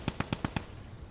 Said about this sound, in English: Yeah, I'm using the mortar.